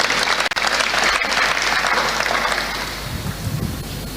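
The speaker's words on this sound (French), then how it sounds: "Sous vos applaudissements." Dense, loud applause from a crowd at an outdoor presidential address in Popenguine, Senegal, a continuous roar of clapping that eases slightly toward the end.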